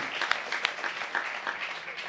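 Scattered audience clapping breaks out during an Italian public speech, moderate and somewhat distant, with a few sharper individual claps standing out in a short burst.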